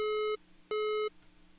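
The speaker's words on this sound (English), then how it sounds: "the beeping sound gets higher and faster, and then it gets even higher and faster" A distorted sine-wave synth beeps twice in an even on-off rhythm, each tone bright and buzzy with many stacked overtones, loud and alone with short silences between.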